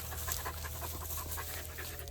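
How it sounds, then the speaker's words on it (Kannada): Dogs on a farm pant rapidly and rhythmically at close range, a quick steady breathy huff with faint background ambience. "ನಾಯಿಗಳು ತಂದುಬಿಟ್ಟಿದ್ದೀರಾ?"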